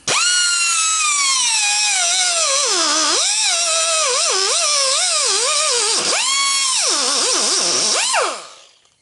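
A power blade cuts through a rubber hose near its brass end, giving a loud, high-pitched whine that rises and falls as it bites and eases. The whine is sustained for several seconds and cuts off abruptly at the end.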